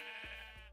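A single sheep bleat from Minecraft as the animal is sheared, a short wavering nasal cry with two quick pitch dips, heard alone and close.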